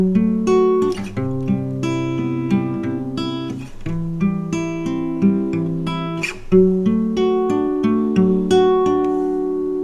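Acoustic guitar strums a chord progression alone, with steady ringing chords and repeated strums at a moderate pace, close and clear, with no talking.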